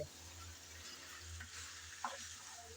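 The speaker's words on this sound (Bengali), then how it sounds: "এখন আবারও মূলা আর চিকেন ভালোভাবে নেড়ে চেড়ে মিশিয়ে নিতে হবে" Radish and chicken are stirred together in a hot pan, a quiet continuous sizzle with soft scraping and a small clink near the end.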